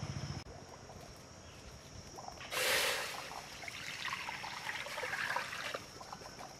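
Water poured into a wok gives a steady trickling splash throughout, with a brief louder gush near the middle, heard close against low background noise.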